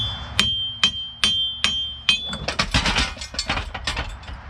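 A hammer strikes a Foxbody Mustang's rear end axle five times, sharp metallic clanks spaced about half a second apart with ringing tails, followed by a quick jumble of rattling clinks and knocks.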